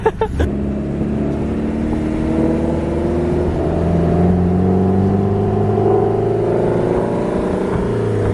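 Ford Mustang GT with wide body and 20-inch wheels, a loud close engine drone holding steady after a brief clatter at the start, rising slightly in pitch midway, with no talking over it.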